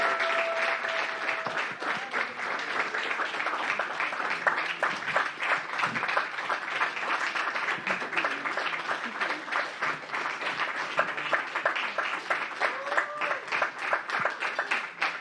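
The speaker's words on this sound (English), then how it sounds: "Keep the applause going," Sustained audience applause fills an awards ceremony hall, a steady dense wash of many hands clapping at an even level throughout, with no voices standing out above it.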